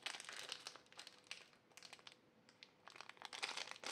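A plastic packaging sachet crinkles and rustles in someone's hands, soft close crackling in uneven bursts with brief pauses, quiet and with no talk.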